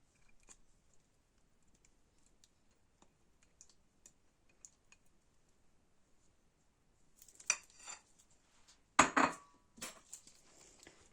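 A spoon scrapes and clinks against a bowl of yogurt salad with golden thistle in a few quick bursts near the end, after a long stretch of faint ticks and small taps.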